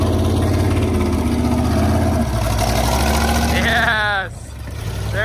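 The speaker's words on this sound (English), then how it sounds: "It's just an old carbureted engine and it's hard to get her to start for the first time every once in a while." An old carbureted engine runs with a loud, steady, rough drone near the microphone. Near the end it surges upward in a brief rising rev, then dips back down, with a voice audible alongside.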